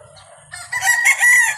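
A rooster crows loudly on a farm, one drawn-out call rising after a few quiet moments, close by and with no talk over it.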